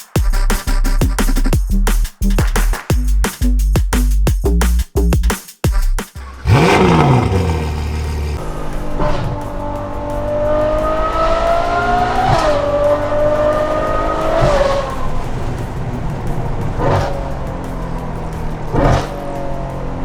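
A brand-new Ferrari 812 Superfast supercar roars loudly up close. Its engine revs sharply in rapid blips, then pulls away with long rising and falling sweeps as it drives past and recedes, with no talking over it.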